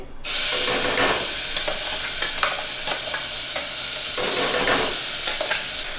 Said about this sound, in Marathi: जो खडा मसाला तो मस्तपैकी गरम झालाय तर त्यामध्ये आता हे वाटण घालून घेते